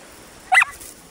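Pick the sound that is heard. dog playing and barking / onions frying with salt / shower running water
dog playing and barking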